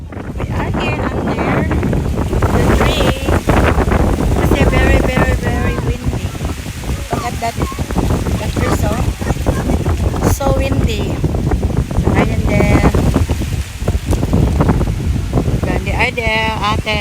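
Strong wind blows outdoors at Bundeena beach in New South Wales, buffeting the microphone in loud, gusty rumbles throughout, while several people talk and laugh nearby.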